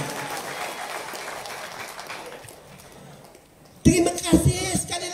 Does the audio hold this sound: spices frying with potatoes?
no